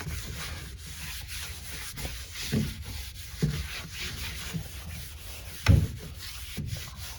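A cloth rubs an oil finish into a wooden sewing machine cabinet with steady, soft buffing strokes, punctuated by a few louder swipes and light knocks.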